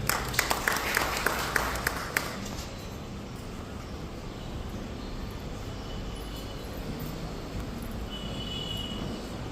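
An audience at an academy career-guidance event claps for an arriving guest, a brief burst of sharp claps over the first two seconds that dies away into a low, steady room murmur.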